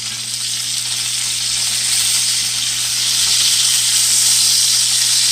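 Perch and flounder fillets fry in hot oil, a loud, continuous close-up sizzle and hiss that builds slightly over several seconds. A steady low hum sits beneath it, with no talking.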